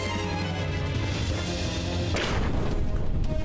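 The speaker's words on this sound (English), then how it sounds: "because he's doing the arm cannon" A boss fires its arm cannon in a video game, a loud, close blast bursting out of a dense, constant rumble of game noise and ringing on afterwards.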